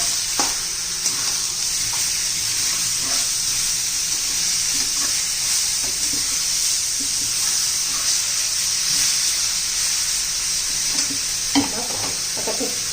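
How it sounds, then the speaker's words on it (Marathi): Bitter gourd sizzling in a pan on the stove, a steady hiss and crackle with occasional scraping stirs and light clinks, close up and continuous. "मोठ्या गॅसवर आपण कारलं परतून घेतलेलं आहे"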